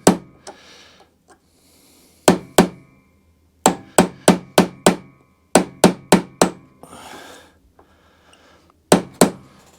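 A punch is struck with a hammer to drift a roll pin out of a Viking lawn mower's drive. Sharp metallic blows ring out close and loud, some single and some in fast runs of four or five, with brief pauses between.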